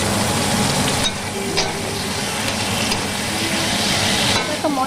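Hinche greens stalks frying in a pan with turmeric and salt, a loud steady sizzle with stirring scrapes and a few brief clacks of the utensil, no talking heard.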